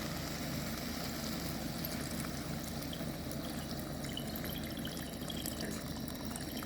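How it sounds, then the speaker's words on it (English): Still water, one liter, pours into a soup pot of vegetables, a faint continuous splashing trickle heard up close without any talking. "We are gonna add 1 liter of still water."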